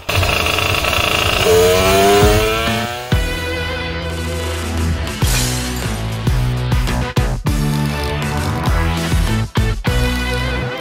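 A water-cooled Puch Maxi 88cc moped engine tuned to 21 hp revs hard and loud, its pitch sweeping up and down through repeated sharp throttle blips and drops.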